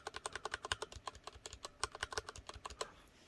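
Rapid computer keyboard typing with o-ring dampeners fitted under the keycaps, a steady run of soft, muted clicks and thocks at close range with no voices.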